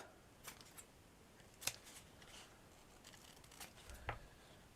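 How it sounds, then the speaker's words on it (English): Scissors snip through craft material while making a cushioned trinket box, giving a few quiet, separate cuts with small rustles in between in an otherwise hushed room. "And again, just snip it off."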